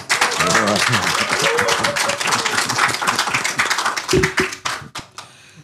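Audience clapping for rock legend Ahmad Albar at a talk show taping, a loud burst of claps and taps mixed with excited voices talking over it, tapering off near the end.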